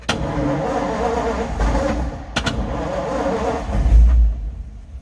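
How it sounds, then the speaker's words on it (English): A 1946 Ford pickup with a flathead engine starts up and idles, heard up close as a steady low engine rumble with a couple of sharp clicks and a brief swell near the end. "We're just going to hit the starter button over here. Push it firm."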